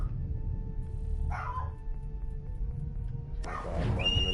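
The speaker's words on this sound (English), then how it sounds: "My dog barking in the background." A dog barks in the background, a couple of short, somewhat distant barks and yips over a steady low hum.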